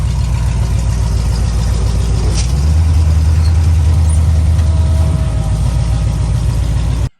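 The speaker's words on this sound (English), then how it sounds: "So Eric's backing up and we're gonna tow them out" An off-road tow truck's engine running as it backs up at a wrecker competition, a loud, steady low rumble close by that deepens and strengthens in the middle, with no speech.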